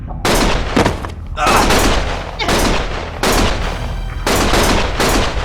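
Loud bursts of automatic gunfire in Lost Judgment, coming in four or five long volleys separated by brief pauses, each a dense, harsh clatter of rapid shots.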